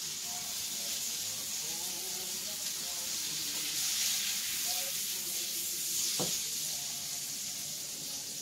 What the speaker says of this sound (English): I put some olive oil and a little bit of butter, and I'm gonna start sauteing my onions and my peppers